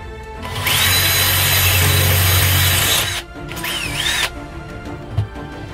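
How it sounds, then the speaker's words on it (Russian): A power drill bores a hole through a broken bandsaw blade held with pliers, whining steadily for about three seconds, then a second shorter burst with the motor speed rising and falling, followed by a faint clink. "И теперь надо его просверлить."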